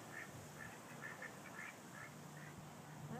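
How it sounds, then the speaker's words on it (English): Two ducks quack in a loose series of soft calls in a front yard against a steady outdoor hiss, faint and somewhat distant. "There's two ducks in our front yard."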